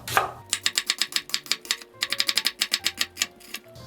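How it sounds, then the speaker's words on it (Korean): A knife julienning half an onion on a cutting board for japchae gives quick, evenly spaced taps in rapid bursts with brief pauses between runs, close and crisp. "양파 반 개는 채 썰어 주세요."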